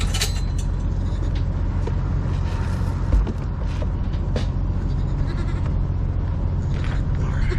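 Goats bleat repeatedly amid steady mechanical vehicle noise, their calls rising in short bursts over a continuous engine rumble, no talking.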